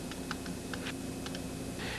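Keys clatter on an IBM PC keyboard in a quick, uneven burst of close, crisp clicks over a steady background hum, with no voices.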